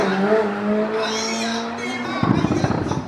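A small Honda car accelerates at a drag race in Thailand, its engine rising in pitch before a sudden burst of rough, crackling exhaust noise at close range.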